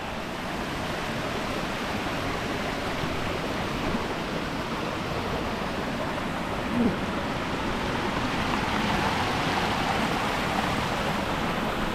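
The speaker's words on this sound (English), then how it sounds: "Another creek crossing coming up." Creek water rushes in a steady, broad wash of sound, constant and fairly close, with no voices, on the Rainbow Falls Trail up Mt. LeConte in the Smoky Mountains.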